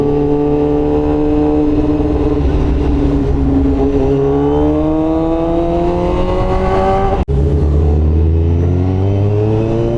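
An inline-four motorcycle engine revs high with a smooth, rising whine, then drops sharply and settles into a lower idle. Loud and close, no talking.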